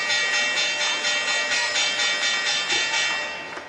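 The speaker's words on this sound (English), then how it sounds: "That clang clang is the sound of a brass bell turned to the pitch D, but with an overtone of D sharp." A brass bell at the New York Stock Exchange, tuned to D with a D-sharp overtone, rings in a sustained, shimmering clang that swells and pulses for several seconds with no voices.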